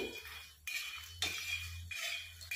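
Lotus seeds (makhana) are stirred in a hot kadhai over a gas flame, a spoon scraping and clinking against the metal pan in repeated strokes, close and fairly quiet.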